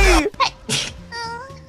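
A single quick sneeze, sharp and close, followed by brief voiced sounds, in a casual indoor gaming setting.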